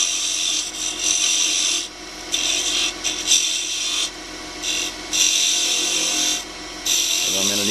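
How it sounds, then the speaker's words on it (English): A quarter-inch bench chisel, used like a bedan, cuts a V groove into spinning wood on a lathe, giving a steady loud rasping scrape that breaks off briefly several times as the tool lifts from the work. "I'm going to give myself some room using a 1/4 inch bench chisel like a bedan. Get a V groove going here."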